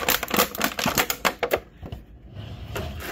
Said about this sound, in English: I just bring back the crinkle crinkle.